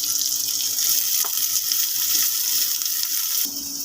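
Garlic and onion frying in a pan for fried rice, a steady bright sizzle that fades after a few seconds with a faint stir partway through, close and loud, nobody speaking.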